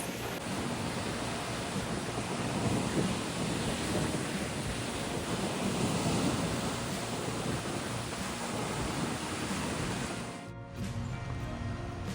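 Steady roar of surf breaking close by, mixed with gusty wind buffeting the microphone, continuous and loud for the whole stretch, briefly dipping near the end.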